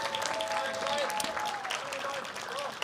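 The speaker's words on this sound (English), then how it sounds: "round of applause to you all for being" An audience at an MTA news conference for Autism Acceptance Month applauds in a brief, even wash of clapping, with someone talking over it.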